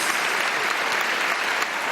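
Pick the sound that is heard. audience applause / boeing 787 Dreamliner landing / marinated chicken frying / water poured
audience applause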